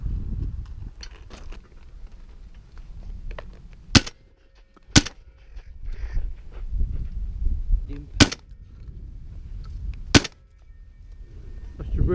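Shotguns fire during summer pest control, four sharp loud blasts at uneven intervals, with quieter handling noise and outdoor ambience between them.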